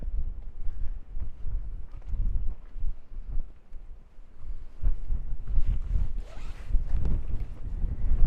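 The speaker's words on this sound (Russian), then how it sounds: "Надеюсь, что там не будет такого ветра" Strong wind at the ancient site of Ein Gedi, Israel, buffets the microphone in low, rumbling gusts, rising and falling continuously with a few faint rattles over the roar.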